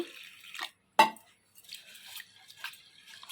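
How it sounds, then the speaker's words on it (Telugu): Water splashes and trickles into a bowl of moong dal for washing, in a few short bursts separated by brief quiet gaps, close by. "ఇప్పుడు గోరుచిక్కుడుకాయ ఉడికేలోపు పెసరపప్పు కడుక్కుందామండి. వాటర్ పోసుకొని"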